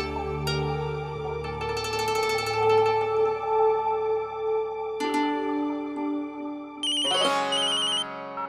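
A melodic electronic phone ringtone in a Hindi TV drama scene plays loud and close for several seconds, chiming tones repeating with a bright jingle near the end.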